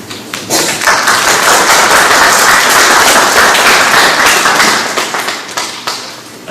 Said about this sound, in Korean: 우리 환영의 박수로 인사드리겠습니다